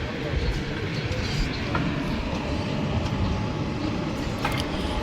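The Okha-Rajkot-Porbandar train sits at a junction station platform, its steady low rumble rolling on throughout with faint rail clatter and a few brief higher squeaks, while a person talks nearby.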